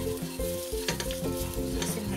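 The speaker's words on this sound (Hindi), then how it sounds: "इसे हल्का सा भून लेंगे" Coriander and red chili powder frying in a pan, giving a steady, close sizzle with faint stirring scrapes and no voices.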